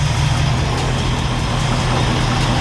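A truck engine on a Ford Super Cab project, its alternator belt loose, runs loud and close with a steady low rumble, holding a fairly even, raised throttle rather than a clear climb from idle.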